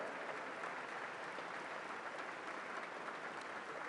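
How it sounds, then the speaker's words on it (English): Audience applauding members of the Washington National Opera at a Smithsonian National Postal Museum ceremony, a steady, even round of clapping heard faintly and at a distance, with no voices over it. "Let's give the members of the National Washington Opera another round of applause."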